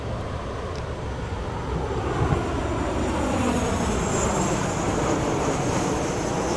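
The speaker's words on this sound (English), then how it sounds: "I like the plane sounds too." A Boeing 737 airliner landing at Newark (EWR) airport roars steadily with a broad, rushing engine and wind noise that swells slightly and holds loud throughout, with no talking.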